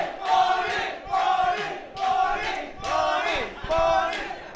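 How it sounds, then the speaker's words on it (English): A large crowd at a World of Tanks esports finals in Malaysia roars and yells in repeated swelling waves, loud and sustained, with little clapping evident. "Give her a round of applause."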